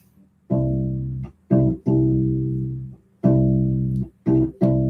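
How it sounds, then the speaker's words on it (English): U-Bass playing a simple bass line: deep, round plucked notes in short phrases, some held and some cut off, with gaps between groups. Close and clear, with no voices. "The bass line will sound something like this."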